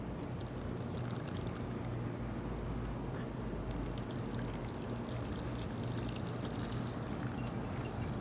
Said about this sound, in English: Now when you have them planted, you always want to give them a good dose of water